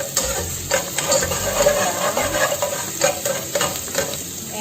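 Ginger sizzles steadily in hot oil in a pan, with intermittent stirring scrapes and clinks over the continuous frying hiss, close and fairly loud.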